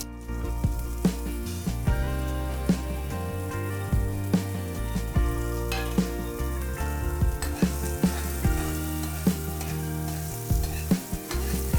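Green chillies and fennel seeds sizzle in hot tempering oil for Indori poha, a steady close frying hiss with repeated stirring scrapes and clinks running throughout, no talking.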